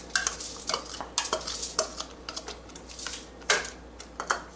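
Tomato paste and ketchup stirred in a pan for spicy chicken tikka pizza sauce, giving a run of close, irregular scraping and clinking strokes of a utensil against the pan, with no talk.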